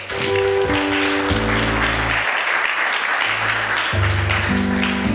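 Applause from a church congregation at a crusade service in Paris: steady, loud clapping that fills the whole stretch, with organ or keyboard chords sustained underneath.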